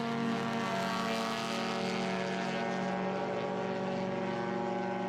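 A vintage Datsun race car passes on the road course, its engine a steady sustained drone that holds loud throughout and then fades slightly toward the end, with no voices.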